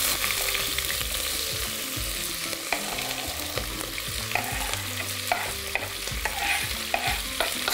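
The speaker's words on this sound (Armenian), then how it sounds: "և տապակում ենք սոխը" Onion fries in a pan with a constant close sizzle, while repeated scraping stirs and occasional clinks of a utensil cut through the hiss.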